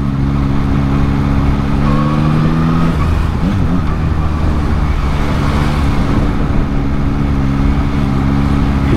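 A 2022 Yamaha MT-09 motorcycle engine grumbles loud and near, with a steady drone and one short rev in the middle, amid traffic noise.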